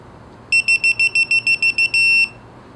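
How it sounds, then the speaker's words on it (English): A digital torque wrench on a BMW M54B25 engine rebuild beeps nine times in a quick, even series of clear, piercing tones, then holds one longer tone before stopping, loud and close. "this is a beeping one. It's also going to have a digital display and let me know."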